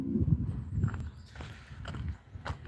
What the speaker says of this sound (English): Early morning pony for you.